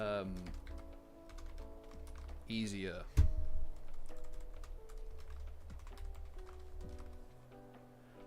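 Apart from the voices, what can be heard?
typing on a wireless mechanical keyboard with brown switches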